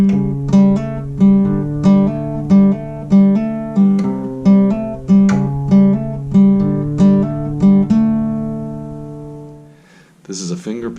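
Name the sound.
fingerstyle guitar playing the opening of a song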